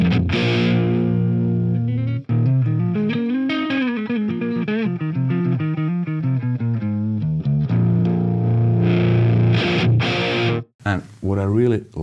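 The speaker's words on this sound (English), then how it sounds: "To me, this is clean sound, so always a little bit that overdrive going on." A Marshall JMP 2203 amplifier tone, clean with a slight overdrive edge, plays a sustained, melodic electric guitar line with bends and ringing chords, loud and alone without talk.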